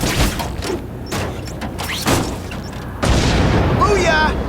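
A booby-trapped car blows up in The Amazing Spider-Man 2 video game, a heavy booming blast with crashing debris, followed by more rumbling impacts under game sound and a character's voice.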